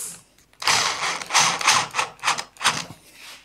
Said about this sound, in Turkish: Evet, bu tarafa bir kalın vida atayım.